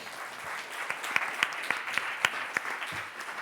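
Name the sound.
audience applause for the panelists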